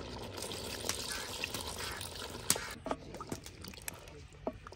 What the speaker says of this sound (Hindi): हांडी में डालेंगे पानी।